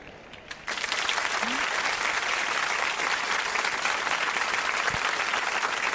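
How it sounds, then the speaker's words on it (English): An audience at a World Youth Skills Day event breaks into sustained applause, dense clapping that starts suddenly and holds steady for several seconds in a hall. "A round of applause, please."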